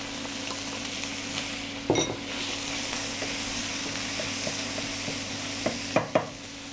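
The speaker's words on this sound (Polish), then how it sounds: "W momencie, kiedy delikatnie podsmażymy boczek, dodajemy drobno posiekaną cebulę." Bacon and finely chopped onion fry in a pan with a continuous close sizzle, broken by a few sharp clicks and scrapes of a utensil against the pan.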